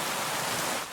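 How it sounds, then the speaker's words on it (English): Steady, dense rain hiss in the medieval game Kingdom Come Deliverance 2, a loud broadband wash with no gaps, alone and without voices, tapering slightly at the very end. "where we don't have the rain sounds quite so much"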